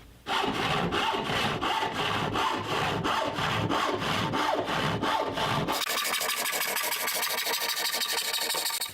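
A wooden piece clamped in a bench vise is cut with a hand saw, giving steady rhythmic rasping strokes that shift to faster, finer strokes partway through, close and with no talking.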